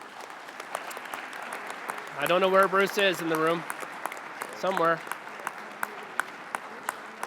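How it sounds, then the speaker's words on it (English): Scattered clapping at a regional council meeting continues throughout, thin and distant, while someone speaks briefly over it. "we all give him a good round of applause for everything here he has done"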